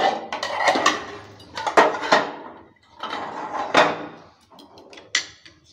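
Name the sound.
lifting the lid off a pan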